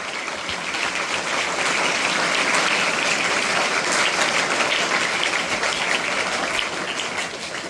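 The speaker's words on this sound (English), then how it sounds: "Let's give a big round of applause to him." A school audience at the ONGC Baroda High School entrance-festival ceremony bursts into loud, dense applause that holds steady for several seconds, a continuous rain-like patter of many hands with no voices.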